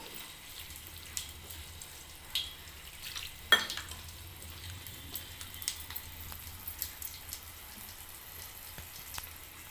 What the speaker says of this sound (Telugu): తాలింపు పెట్టేసుకొని కలిపి పెట్టుకోవాలండి